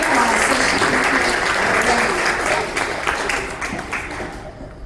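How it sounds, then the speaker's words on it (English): Audience at a Republican women's dinner meeting in Yuma applauds warmly, a dense, steady wash of clapping that holds loud before easing slightly and tapering toward the end. "Please give her a warm round of applause"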